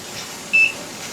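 A single short, clear electronic beep from an electric pressure canner, sounding once against a quiet room hum.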